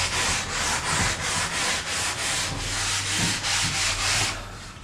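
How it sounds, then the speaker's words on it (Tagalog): Sandpaper rubbed by hand over a wood finish before a clear gloss lacquer coat, a rhythmic back-and-forth scratchy hiss in regular strokes, close and steady, with no talk. "Mano-mano liha."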